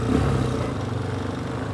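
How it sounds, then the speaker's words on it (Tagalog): A four-wheeled vehicle's engine runs loudly at speed in third gear, a steady mid-pitched drone with a vibrating, rattly edge that holds strong throughout with no talk. "pag bumibilis siya, mararamdaman mo yung vibration, doon lumalakas yung makina"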